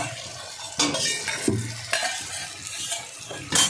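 Fried potatoes go into cooked spice masala in a pan, bringing a quick clatter of spoon against metal over a continuous close sizzle, with a few louder scraping stirs.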